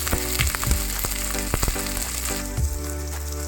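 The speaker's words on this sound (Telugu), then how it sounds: "బిర్యానీ ఆకు వేగాయి కదా, 4 ఉల్లిపాయలు వేసుకున్నాను" Onions and green chillies frying in a pan with bay leaves for paneer biryani, a loud steady sizzle running throughout, broken by occasional spatula scrapes and knocks against the pan.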